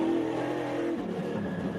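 An SRX race car engine at Sharon Speedway roars on throttle, a loud sustained drone with no talk over it that shifts pitch downward about halfway through as the throttle eases.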